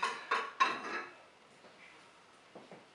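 Dishes being stacked away in a kitchen cupboard: a few sharp ceramic clinks and knocks near the start, then quiet, with faint light clatter at the end.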